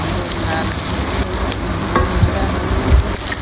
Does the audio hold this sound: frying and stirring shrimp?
yes